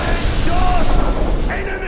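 Gunfire in the video game Far Cry 4 rattles in dense, loud bursts for about two seconds, with in-game voices and combat noise mixed underneath.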